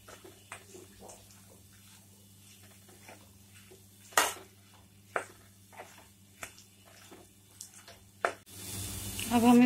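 Spices like red chili, turmeric and cumin with garlic paste are stirred in a frying pan, a soft sizzle broken by scattered clinks and scrapes of a spoon against the metal, louder toward the end.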